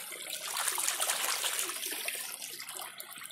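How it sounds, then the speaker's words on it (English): Water splashes and trickles steadily over a freshly found fossil as it is rinsed off outdoors in Ohio, a close, continuous hiss without talk. "I'll just wash it off."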